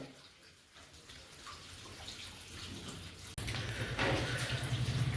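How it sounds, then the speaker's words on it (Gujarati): Water splashes steadily from a tap while a dog is bathed, a soft close rush that jumps noticeably louder partway through, with no clear talking. "પાણી કેટલું આવે હે."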